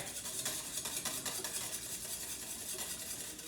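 Dessert batter being mixed after an egg is added, a steady, faint whirring churn with soft rhythmic scraping that runs continuously without pause and no voices over it.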